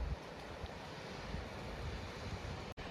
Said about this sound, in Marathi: समुद्र पण कडक आहे